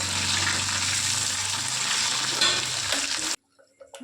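A pot of Tamil-style pongal with cashews and raisins bubbles and sizzles steadily while being stirred, loud and close, then cuts off abruptly into near silence with a few faint clinks.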